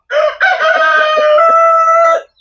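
A rooster crows loudly and close by outdoors, one long drawn-out call lasting about two seconds, alone.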